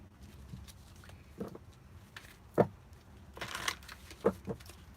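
Playing cards being shuffled by hand for a numerology reading, a series of soft riffles and sharper taps at an irregular pace, close and alone without talk.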